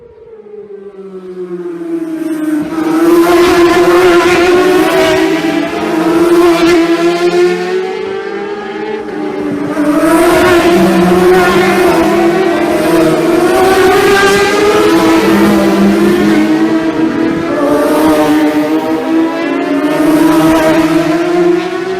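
Racing motorcycles at the Isle of Man TT roar past a roadside front garden one after another, each engine screaming loud and close with rising and falling pitch as bikes approach, pass and fade, then the next arrives.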